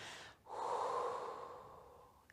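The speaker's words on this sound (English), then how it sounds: "So take a deep breath out." A single long, steady breath out during a seated core exercise, close and fairly loud, following a short inhale and lasting nearly two seconds with no talking.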